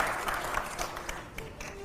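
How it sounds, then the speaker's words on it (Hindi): Audience applause at a televised Hindi political debate or quiz show, a brief burst of clapping that stays fairly loud and uneven throughout. "अगले सवाल के लिए जोरदार तालियां हो"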